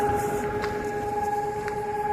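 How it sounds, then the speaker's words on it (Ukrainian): An air raid all-clear siren over Kharkiv's Saltivka district on an August 2025 evening, a steady sustained wail holding unbroken tones throughout, heard alone with no talking. "відбій, я так розумію, повітряної тривоги."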